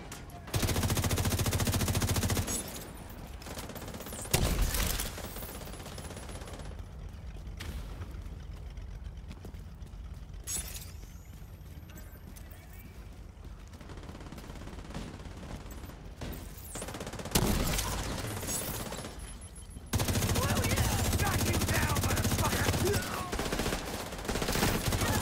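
Sustained automatic gunfire from blind firing in a video game, loud dense bursts that start and stop abruptly, with long stretches of quieter rattling in between.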